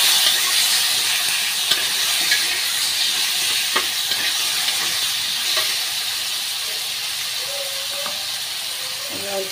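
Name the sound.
frying spices with garlic paste in a pan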